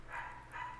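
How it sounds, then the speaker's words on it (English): A dog gives two quick barks, faint and somewhat distant, evenly spaced and heard on their own without voices. "there's a dog barking now"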